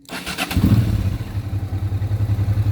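A Honda Transalp motorcycle engine cranks and catches, then settles into a steady, loud, throbbing idle with a regular low pulse.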